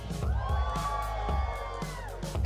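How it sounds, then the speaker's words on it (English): An awards-show crowd cheers, whoops and applauds for the judges, a dense continuous roar with high shouts and a burst of louder clapping at the end. "Let's have a big round of applause for all of our amazing judges"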